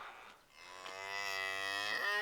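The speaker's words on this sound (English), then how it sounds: "Here are the cattle." Cattle moo in a farmyard, one long, drawn-out low call swelling steadily and holding for over a second, fairly close but modest in level.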